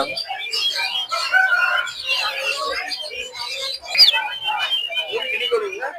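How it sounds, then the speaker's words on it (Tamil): Turkeys give short warbling calls through steady crowd chatter and voices at a busy animal market during the Anthiyur temple car festival, with a sharper call rising briefly near the middle. "இல்ல இல்ல இது வான் கோழிங்க"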